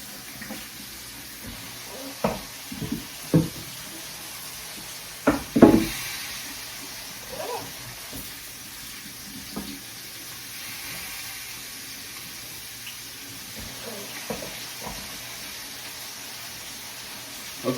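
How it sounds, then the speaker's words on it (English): Steak searing in a pot, a soft continuous sizzling hiss with occasional utensil knocks and clinks scattered over it. "to get a picture of this stuff searing. And you can hear it."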